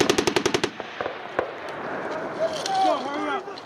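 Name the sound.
machine gun firing on range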